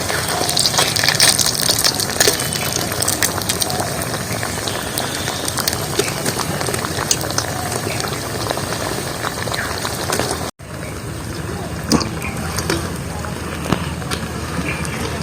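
Panta rice chops deep-frying in hot oil, a loud continuous bubbling crackle that runs steadily, with a momentary cutoff partway before resuming at the same level.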